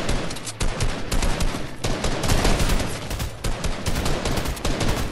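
Relentless video game gunfire, rapid bursts and overlapping shots cracking loud and close in nearly continuous volleys, with no talking over it.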